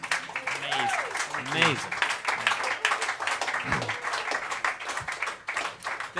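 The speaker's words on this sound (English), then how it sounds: "Can we have a massive round of applause for the sound guy?" Concert audience at Blue Note Dresden gives the sound engineer a round of applause, with scattered clapping under a voice that speaks and exclaims over it for several seconds.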